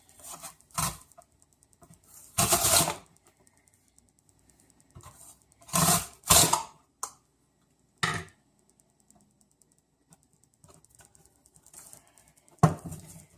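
A Ze&Li mandoline slicer cutting a vegetable into quarter-inch shoestring fries, heard as a handful of separate crisp slicing strokes with quiet gaps between them, close and loud with no talk.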